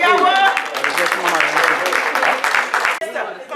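An audience at an afternoon conference session applauds a speaker, a dense, steady wash of many hands clapping close by for a few seconds and briefly dipping near the end.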